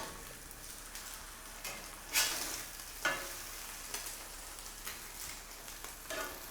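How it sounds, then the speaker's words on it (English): Tortilla frying in a pan of grease, a steady close sizzle and crackle with a few louder spatters and scraping stirs as it cooks, no talk. "Tortilla's puffing a little."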